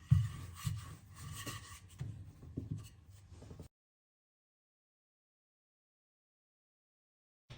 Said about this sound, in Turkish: Şöyle hafiften yine bir merdane geçiyoruz.